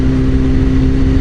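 A Honda Fireblade motorcycle engine droning steadily and loudly at cruising speed, a constant close mechanical hum with a strong low tone and no talk.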